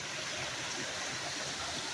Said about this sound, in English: That there's the muddy water.